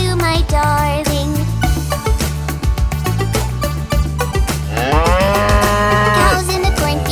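Cows mooing loudly and repeatedly in long, deep, drawn-out calls, several overlapping, with a jingling bell and rhythmic accompaniment in a children's song.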